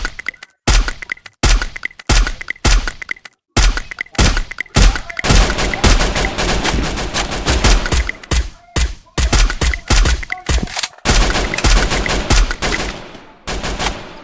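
Rapid bursts of suppressed gunfire in a first-person shooter game, loud and close, arriving in clustered volleys with short gaps, no voices.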